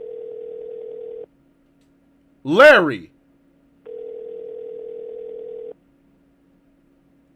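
A telephone call tone in a video game: a steady, level tone plays for over a second, breaks for a short burst of voice, then returns for another long stretch before cutting off.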